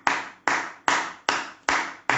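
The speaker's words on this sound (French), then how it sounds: "J'applaudis le gardien guinéen, les amis." One person claps slowly and deliberately for the Guinean goalkeeper at an Equatorial Guinea versus Côte d'Ivoire football match, six sharp, close hand claps spaced evenly with short decays between them.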